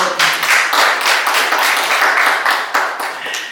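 A webinar audience claps steadily for several seconds, a dense wash of hands with no voices over it, loud and close.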